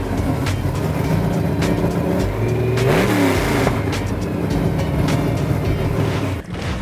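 A street rod at an outdoor car show by a lake fires up and revs loudly, its engine note rising and falling in strong, close bursts over a steady rumbling idle.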